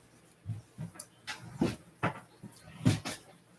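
A kitchen door or cupboard is handled and shut, a string of close soft knocks and clacks of varying strength, the loudest near the end.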